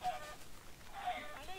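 Chickens in Minecraft cluck softly in a short, low-volume burst of two or three clipped calls, faint and somewhat muffled against a quiet background.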